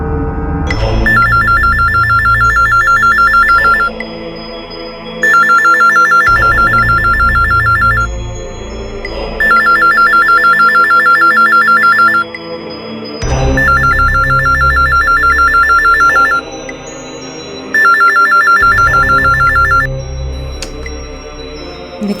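A telephone bell rings loudly in a repeating pattern, several long bursts separated by short pauses, clear and close, with no talking over it.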